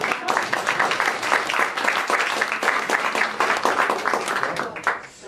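A theatre audience at a jubilee celebration claps in sustained, steady applause, many hands close together in a dense patter that fades near the end.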